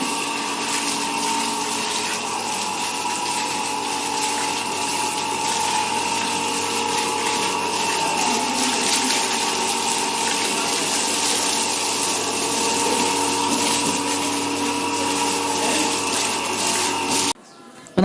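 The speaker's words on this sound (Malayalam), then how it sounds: "അപ്പോൾ നമ്മൾ നന്നായിട്ട് വെള്ളം അടിച്ചു വിട്ടിട്ടുണ്ട് കേട്ടോ" Water sprays hard and steadily from a hose while a motorcycle is washed at home in the evening. The rushing hiss stays constant and close for about seventeen seconds before cutting off.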